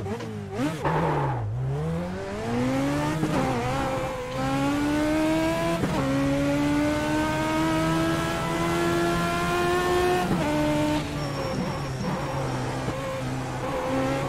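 A Legends race car laps the VIR Patriot course, its engine revving hard and climbing steadily through the gears with brief dips at each shift, loud and close from onboard.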